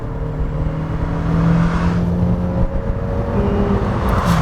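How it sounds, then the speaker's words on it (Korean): A Chevrolet Trax 1.4-litre turbo small SUV with 140 horsepower drives and accelerates. Steady, loud engine drone and road noise are heard from inside the cabin, with the pitch rising slightly as it speeds up and no talking. "네, 그럼 지금부터 쉐보레 트랙스와 함께 달려보겠습니다."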